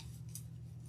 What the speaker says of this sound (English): I'm just gonna take this opportunity to trim them down a little bit